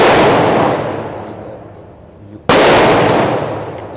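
Two gunshots from an oiled S&W M&P 2.0 Pro Series .40 S&W pistol fitted with a Freedom FRT trigger, each a sharp, very loud crack with a long decaying echo, fired roughly two and a half seconds apart outdoors.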